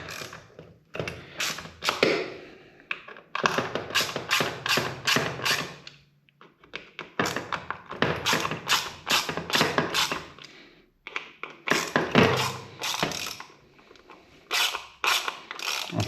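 A Torx T25 bit on an extension unscrews the clutch cover bolts of a BMW S1000RR motorcycle, giving repeated bursts of close, loud ratcheting clicks separated by short pauses.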